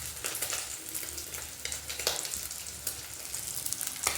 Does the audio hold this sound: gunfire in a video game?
no